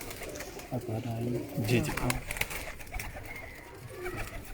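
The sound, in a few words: pigeons cooing on a rooftop loft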